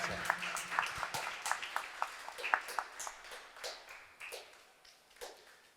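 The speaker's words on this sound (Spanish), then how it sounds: "vamos a darle un fuerte aplauso a Napoleón, por favor, y a Nape Games." Small audience clapping for a presenter from Nape Games, sparse claps of varied strength that gradually taper off, fairly faint overall.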